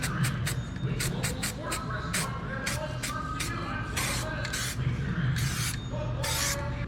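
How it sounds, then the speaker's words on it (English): Bursts of a spray gun laying a moderate coat of etch primer over exposed welds on the mini tub kit of a 1980 Trans Am, several short hissing blasts at close range with brief pauses between them. "Not a very heavy coat, but a decent one of etch primer."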